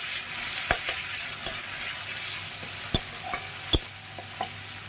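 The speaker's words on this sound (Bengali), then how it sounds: "টমেটোটা একটু ভেজে নেব" Steady sizzling of tomatoes frying in a pan, with occasional sharp clinks and scrapes of stirring, close and moderately loud, no voices.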